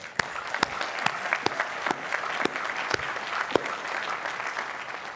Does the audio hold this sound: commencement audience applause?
yes